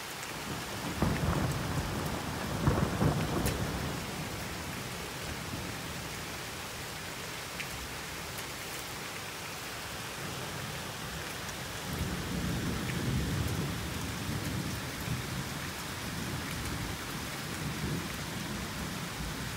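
A nearby thunderstorm brings rumbling thunder over a steady wash of hail. Heavy low booms swell early and again later, under continuous falling ice with no talking.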